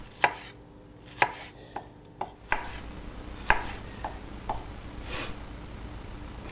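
A knife slices a star fruit into quarter-inch slices. About eight sharp, irregular chops strike a cutting board up close, with a quiet pause between them.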